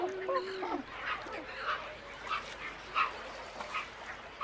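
White pelicans in a Danube delta breeding colony give a series of hoarse, honking calls, some near and some farther off, spaced irregularly over a quiet background.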